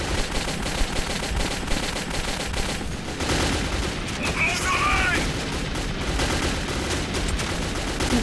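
Gunfire in the video game Metro 2033, dense bursts of shots and rattling fire running through the whole stretch with a noisy, busy backdrop and a brief high ringing in the middle, while a voice speaks now and then.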